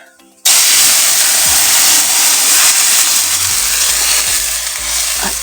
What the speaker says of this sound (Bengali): কড়াইটাকে ধুয়ে নিই কড়াইটা